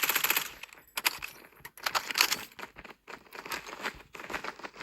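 Rapid automatic gunfire from a jump-shooting player in Call of Duty Mobile, quiet, crackling bursts broken by short gaps, repeating steadily throughout.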